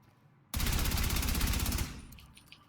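An assault rifle fires in a video game: one loud, sustained automatic burst of rapid shots lasting just over a second, then a short fading tail.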